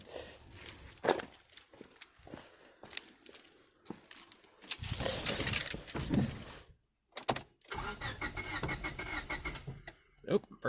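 A 1998 Honda Civic EX engine cranks and sputters while trying to start, in uneven bursts with gaps of silence between attempts, heard up close with some speech and rustling around it.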